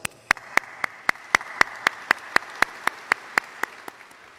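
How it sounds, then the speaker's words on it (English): A lone pair of hands claps about sixteen times in a steady, even rhythm at a high school graduation ceremony, sharp and fairly close with no crowd behind it. "Clap it up for yourselves."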